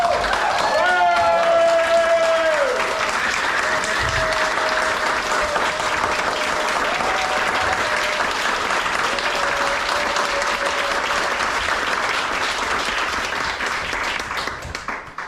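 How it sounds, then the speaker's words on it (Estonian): An audience at a festive party at Sassimaja applauds loudly and steadily for about fifteen seconds, a dense wash of clapping with a few voices and tonal calls riding on top early on. "teeme ühe suure aplausi publikule."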